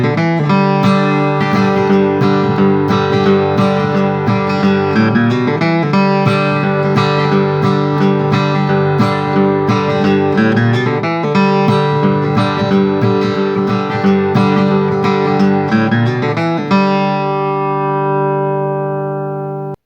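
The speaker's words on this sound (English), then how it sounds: "the famous bluegrass G run, and that would sound like this" Acoustic guitar plays a modern bluegrass G run, a brisk flurry of picked single notes and strums repeated in quick phrases, loud and close, ending on a ringing held chord that fades out.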